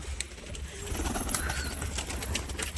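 Domestic pigeons of the Bengali sorok-baji fancy breed coo softly, and a few short flutters and clicks come through above a low, steady ambient hum outdoors.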